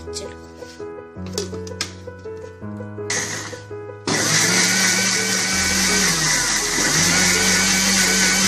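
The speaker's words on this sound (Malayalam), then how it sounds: "ഇതെല്ലാം മിക്സിയുടെ ജാറിലേക്ക് ഇട്ട് നന്നായി അരച്ചെടുക്കുക." A kitchen mixer grinder blends carrot, ginger and water for juice. Soft music plays first, then the motor kicks in halfway through with a loud, steady, close whirring roar that runs to the end.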